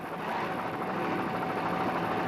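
A helicopter flies over a 1985 offshore powerboat race near Freeport, giving a loud, steady, close drone of rotor and engine noise that continues without a break.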